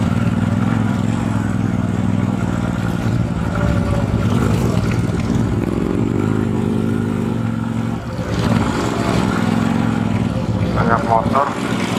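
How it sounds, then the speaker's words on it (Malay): Several motorcycles run along a forest trail in Sancang near the beach. Their engines make a continuous loud, close drone that rises and falls as the bikes pass, with voices talking over it. "Banyak motor."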